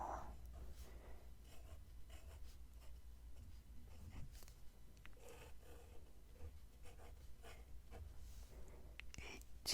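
A pen writes on paper up close in a quiet ASMR-style setting, giving soft, continuous scratching strokes with small pauses between words and a low steady background hum.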